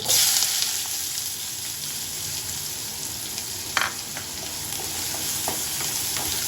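Chopped onion sizzles steadily in hot oil with mustard seeds and cumin, with occasional stirring scrapes against the pan, close and continuous.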